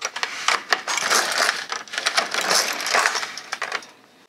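An LK150 knitting machine carriage is pushed back and forth across the needle bed, making rapid rattling, clicking sweeps in close succession before trailing off, with no voices.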